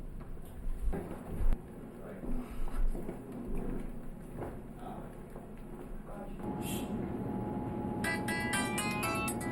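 A cell phone rings in a school setting, its bright repeating electronic ringtone starting near the end and sounding steadily over a busy room, after a stretch of nearby talking and shuffling.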